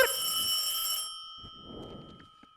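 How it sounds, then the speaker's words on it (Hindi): An electronic telephone ring trills for about a second, then cuts off, leaving faint rustling and low noise behind. "ये तो फोन आ गया।"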